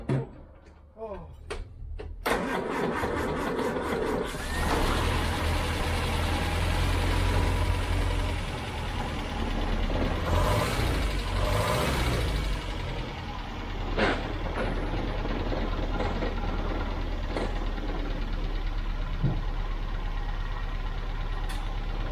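A Land Rover Series 2a engine cranks briefly, then catches and settles into a steady, loud idle close by, running continuously with a rough low rumble while occasional clunks and faint voices sound over it.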